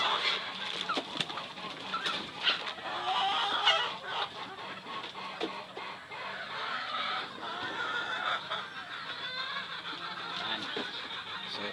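Several breeding hens of mixed breeds cluck and cackle nearby in an ongoing chorus, with occasional louder squawks over a noisy yard background.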